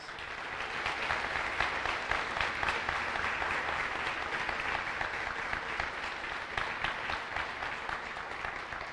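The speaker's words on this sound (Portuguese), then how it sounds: "com uma forte salva de palmas" A church congregation in Uberaba gives a strong, sustained round of applause, dense clapping holding steady and loud from start to finish without a break.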